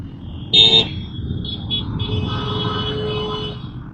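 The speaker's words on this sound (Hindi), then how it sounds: "हाँ साहब इतना ट्रैफिक मतलब" Busy road traffic in Vadodara, India: one loud, close car horn blast near the start, then a steady wash of engines and fainter horns from passing vehicles.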